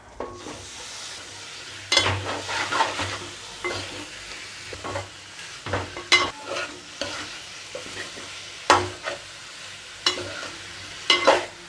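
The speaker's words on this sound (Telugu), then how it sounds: "మూడు నాలుగు నిమిషాలు మీడియం టు హై ఫ్లేమ్లో బాగా వేపుకోవాలి కలుపుతూ చికెన్ని" Chicken frying in oil in a pan for Andhra-style chicken curry, stirred over medium-high flame after ginger-garlic paste; loud sizzling runs throughout, broken by repeated scraping stirs every second or two, close and without talk.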